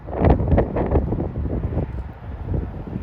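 Breezy wind gusting outdoors at a pretty roadside lay-by beside a main road, buffeting the microphone in uneven loud puffs and swells for a few seconds, with no voices.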